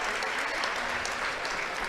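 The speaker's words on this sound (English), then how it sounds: "fans from both Woodlawn and Wayne City applaud their players as they come off the floor" Fans of Woodlawn and Wayne City at a high school varsity basketball game applaud as players come off the floor, a steady, dense wash of gym clapping and crowd noise.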